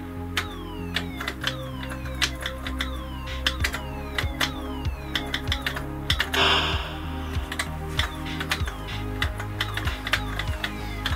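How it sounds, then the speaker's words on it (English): Typing on an Oric Atmos home computer keyboard, a steady run of close, crisp key clicks with irregular rhythm, sometimes bunched in quick flurries, over a faint electronic background. "Keyboard's really nice on this Oric."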